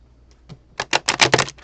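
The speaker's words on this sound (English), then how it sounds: "That was not a great shuffle." Tarot cards being shuffled, a soft rapid riffle of crisp flicking bursts after a few faint taps, close and fairly loud.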